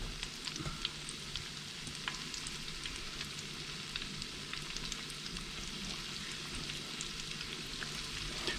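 Continuous crackling and sizzling of youtiao (Chinese cruller) dough frying in hot oil, steady and close, with scattered sharp pops and no talking.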